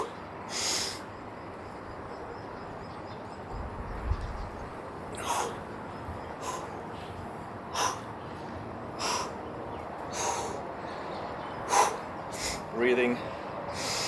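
Sharp, spaced breaths during a home calisthenics pulling workout, about nine short forceful exhales or snorts recurring every second or so, close and moderately loud over a quiet hissy room with no talking.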